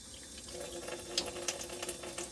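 Tap water runs over beef ribs in a sink, a faint steady trickle with small splashes and patters as the meat is rinsed.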